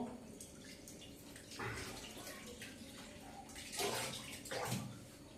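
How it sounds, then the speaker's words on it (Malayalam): Water runs and splashes into a container for making apple juice, a faint, steady pour with a few louder gushes near the end and no speech over it. "ഇതില് വെള്ളം എടുക്കുകയാണ്"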